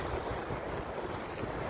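Rough sea waves wash against the shore in a continuous loud rush, with wind buffeting the microphone steadily throughout and no speech.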